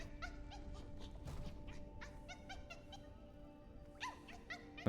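Small dog-like creature in Hollow Knight: Silksong gives a run of short, high yelping and whimpering calls, repeated in quick bursts over a steady game music and ambience bed, fairly quiet overall.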